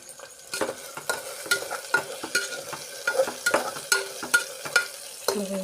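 Food stirred while frying in a pan, with a rhythmic series of sharp scraping strokes over a faint sizzle, close and fairly loud.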